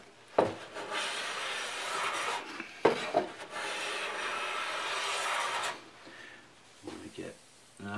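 Hand plane pulling fine, tissue-like shavings from a facet on a wooden pencil post bed, two long rasping strokes, each starting with a knock, then quieter scrapes and handling near the end.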